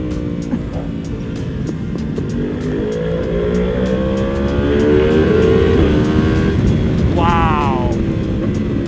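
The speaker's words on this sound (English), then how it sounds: "The downshifts on this bike are insane" A heavily modded Yamaha R1M motorcycle engine revving loud and close, pitch climbing through the gears then dropping in downshifts with a final sharp rev blip, steady wind noise throughout.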